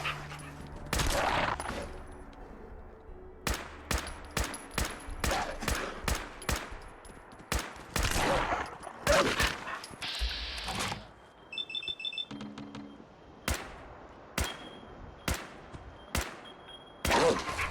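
Gunfire from the video game Fallout 4 cracks out in a rapid series of sharp, loud shots in bursts, with brief pauses, a dog barking and a few electronic beeps mixed in.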